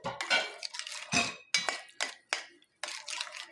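A spoon clinks and scrapes against a bowl while yogurt, mustard, olive oil and lemon juice are mixed into a shawarma sauce, giving irregular close knocks and wet stirring strokes with short gaps between them.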